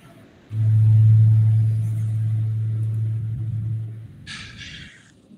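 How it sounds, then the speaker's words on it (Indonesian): A large car rumbles past nearby, its deep engine drone swelling suddenly, holding steady for a few seconds, then fading away. A brief higher hiss follows at the end. "ada mobil gede"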